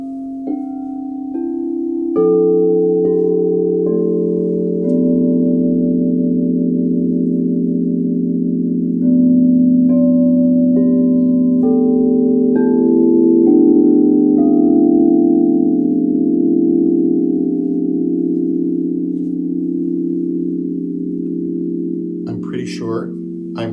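Seven crystal singing bowls from a Crystal Tones set ring together in a loud, sustained, layered drone of pure tones that swells and overlaps for over twenty seconds, with soft strikes adding new notes early on.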